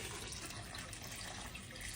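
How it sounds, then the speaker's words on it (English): Cold water pours into a pot for boiling potatoes, a soft, even rushing spray that runs without a break for two seconds, faint and with no talking. "I'm now going to add in 8 cups of cold water."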